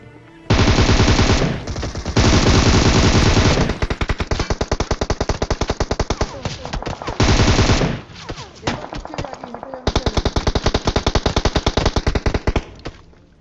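Rapid automatic gunfire from a battle royale video game comes in long, loud bursts and shorter volleys, broken by brief pauses, up close with no talking.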